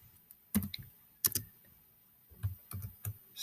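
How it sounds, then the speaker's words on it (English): Computer keyboard typing in a quiet room, a few short bursts of crisp key clicks with pauses between, close and clear. "Like, say, if I type in Mark"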